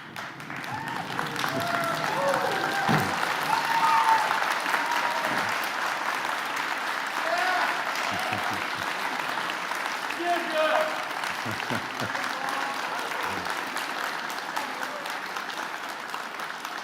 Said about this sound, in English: And I want you to applaud and thank all those people that were part of your story.